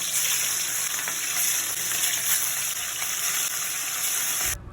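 Food frying in a pan, a dense, steady sizzle with hissing spatter that carries on loudly without a break and then cuts off abruptly, no voices.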